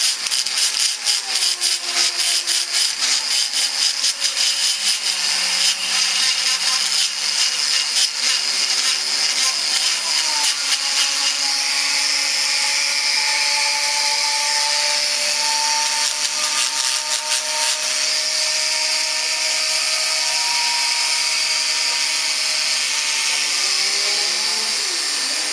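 A drill bit grinds steadily on a part of a Weber carburetor from a Fiat 850, a loud continuous whine with shifting pitch that runs without a break, close up.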